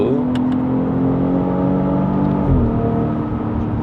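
A BMW X4 M40i engine drones loudly and steadily in a tunnel, its tone shifting lower partway through, with a full, enclosed rumble.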